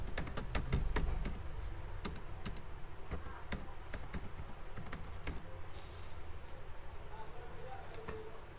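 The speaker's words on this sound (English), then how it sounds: "Click inside the placeholder and you can type text inside." Keys are tapped on a computer keyboard as text is typed into a slide placeholder, an irregular series of sharp clicks that thin out over time, under faint background noise.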